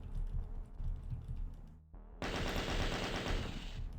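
Rapid, continuous machine-gun-like fire from chaingunner enemies in a video game level, loud and rattling, briefly cutting out before resuming even harder and denser.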